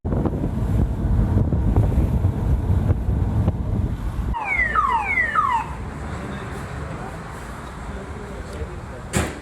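Parked car's alarm being armed: a few rising electronic chirps sound after wind buffeting against the microphone, then a short blip at the end, all outdoors near the coast.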